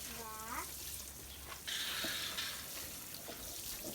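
Warm water pours and splashes onto soil for about a second, with a voice talking quietly before and after.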